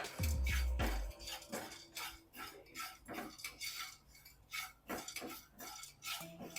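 A metal utensil scrapes and clinks against a pan as black peppercorns and cumin seeds are dry-roasted and stirred, with repeated taps and rattles in an irregular rhythm, close but fairly quiet.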